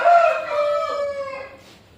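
A young fighting rooster, about four kilograms, crows once nearby with a loud, clear call that trails off over roughly two seconds.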